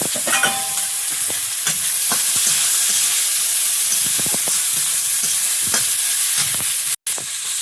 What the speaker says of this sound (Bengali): পেঁয়াজ কুচি তেলের মধ্যে চিংড়ি মাছ সব ভাজা হয়ে গেছে